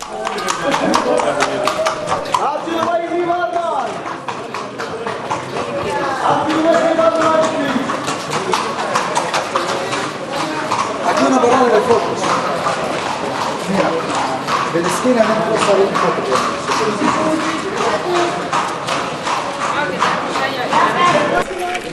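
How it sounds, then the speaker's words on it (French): Steady clip-clop of horse hooves on pavement continues throughout, rhythmic and fairly close, while a person talks over it. "Les sabots, là, ça fait que lui, on les entend vraiment de loin."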